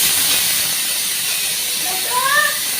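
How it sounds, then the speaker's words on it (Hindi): Boiled cauliflower frying in a pan, giving a loud, steady hiss of sizzling that runs unbroken throughout, with a few faint tonal squeaks near the end. "और अभी गोभी बॉयल होगी तो गोभी को मैं फ्राई कर रही हूँ"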